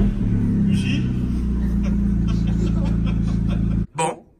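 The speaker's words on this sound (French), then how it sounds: "t'entends un peu les turbos déjà" A turbocharged car engine slowing down, a steady low hum with whooshing turbo noise above it, cutting off abruptly near the end. Voices talk over it.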